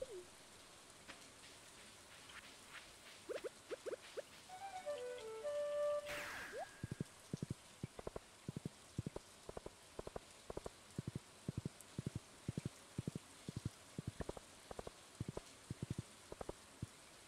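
Rain in the video game Stardew Valley Expanded: a soft, steady patter with distinct drops ticking in a quick, regular rhythm, faint and close, with a brief chime-like game sound midway and no speech.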